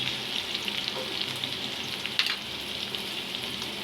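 Yardlong beans frying in a pan as a crispy vegetable stir-fry, a steady bright sizzle with a few faint stirring clicks, close and continuous with no talking.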